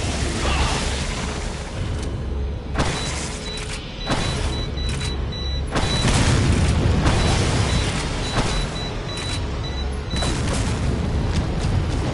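Mine thrower shots striking liquid nitrogen tanks during the Salazar fight in the original 2005 Resident Evil 4, heard as repeated heavy booms and bursts over loud, dense game noise, fairly close and forceful.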